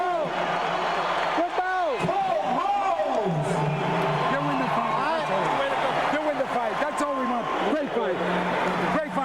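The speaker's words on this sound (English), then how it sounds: "And the crowd is up on its feet." A boxing arena crowd on its feet roars and cheers at the Holyfield vs. Foreman fight, a loud, continuous wall of noise under steady ringside commentary.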